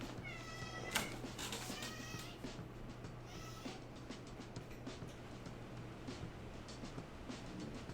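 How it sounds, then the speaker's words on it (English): A house cat meows repeatedly early on, a few rising, harmonic cries over a steady low hum and room noise, then fades into quiet background. "I think Kitty wants out"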